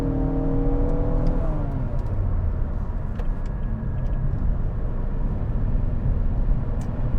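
A 2021 Nissan Altima with the VC-Turbo variable-compression engine and CVT accelerates, its engine note climbing briefly before settling into a steady, close road rumble and whir with no talking.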